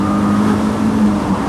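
An MG MGF roadster's K-series engine revs hard on an open road, giving a loud, continuous, close engine roar with steady drone and road noise and no talk over it.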